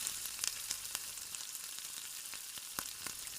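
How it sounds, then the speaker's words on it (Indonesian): Steady crackling sizzle of tofu deep frying in hot oil, with sharp pops and spits bursting through a dense high hiss. "Goreng tahu hingga berkulit dan lapisan kriuk menjadi renyah."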